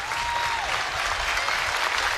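Crowd at a South Dakota State vs Nebraska college baseball game in the top of the ninth inning, a steady roar of clapping and cheering from many people, with a whistle rising and falling above it.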